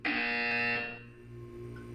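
A loud harsh buzzer from the video game Portal 2 sounds once for about a second, then cuts off, leaving a low electronic hum.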